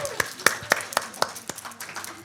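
A few people clap sparsely, about eight distinct handclaps at uneven intervals, close and fairly light, with faint voices in the background.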